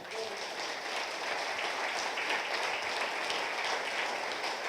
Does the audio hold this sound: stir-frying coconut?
no